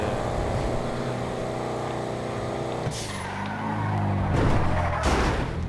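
Audi RS6 in GTA 5 driving at very high speed, a loud sustained engine drone that shifts pitch midway, followed by swelling road and tire noise.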